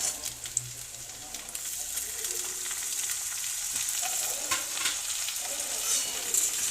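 Chopped onion and potato fry in oil in a pan, giving a steady close sizzle and hiss with occasional stirring scrapes and small pops throughout, no talking.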